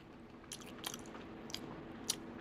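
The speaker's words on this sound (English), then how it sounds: "Crunchy veggies as you bite into it, right?" Bites into a restaurant pizza topped with fresh, crunchy vegetables give a few close, crisp crunches and chewing sounds, spaced unevenly over a quiet background.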